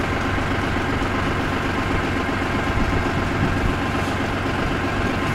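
A tractor engine runs steadily during slow filling of a liquid fertilizer tank in the fields, a continuous low mechanical rumble that stays even and close throughout.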